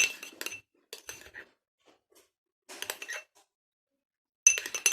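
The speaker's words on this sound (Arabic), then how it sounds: "غادي نخلط المكونات مزيان مع بعضياتهم" A utensil clinks against a bowl while ingredients for a homemade skin-lightening mix are stirred together, in short close bursts of bright chinking separated by brief silent pauses.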